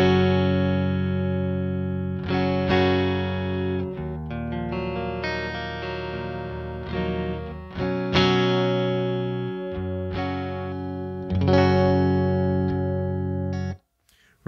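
A Stratocaster neck pickup plugged straight into a Victory V4 guitar amp plays clean, ringing chords and single notes that sustain and decay one after another, loud and alone, before cutting off abruptly near the end.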